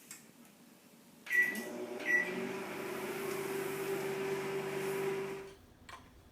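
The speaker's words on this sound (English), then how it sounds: "1 minute in microwave." A kitchen microwave oven heating food for one minute: a door clunk and a couple of beeps, then a steady, quiet mechanical hum that runs for several seconds before stopping, with no talking.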